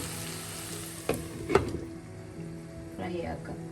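Brinjal and potato frying under a lid in a covered pan over low flame, a continuous close sizzle with a couple of sharp clinks from the pan and brief stirring scrapes.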